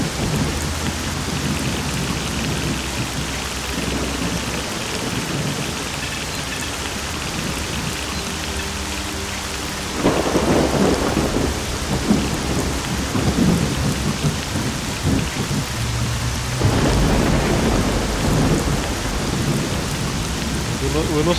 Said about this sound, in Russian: дождь вообще тут не к тему